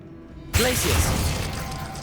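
Glacius freezing spell in the game Hogwarts Legacy, a sudden crackling icy burst that starts abruptly and rings on with a shimmering, shattering texture for over a second, no talk.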